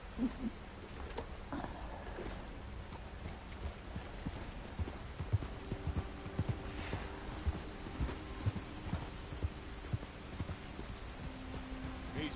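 Horse hooves clip-clopping in Red Dead Redemption 2, a steady walking rhythm of hoof strikes on the ground, moderately close and fairly quiet, with an owl hooting and light rain in the background.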